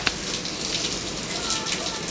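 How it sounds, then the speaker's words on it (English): Heavy rain pours steadily outside in a dense, continuous hiss, close and even throughout with a faint tap near the start. "Look at that downpour."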